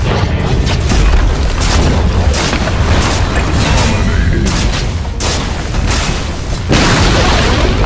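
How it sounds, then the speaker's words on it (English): In Dota 2, a tower collapses amid heavy booms and crashing blasts, with dense, loud bursts of battle noise and impacts rolling on without pause. "Radiant's top tower has fallen."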